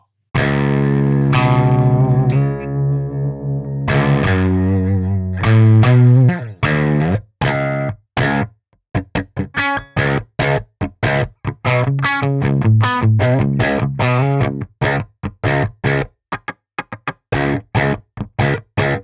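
Aggressive distorted electric guitar through a Boss HM-2W pedal, sustained chords at first, then rapid choppy palm-muted metal bursts with short gaps, loud and close.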